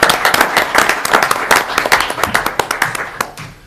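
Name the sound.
round of applause for city staff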